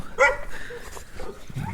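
A small excited dog gives a short burst of high yips and barks close by, a bright bark near the start followed by softer whimpering sounds, right after a lawn has been mowed.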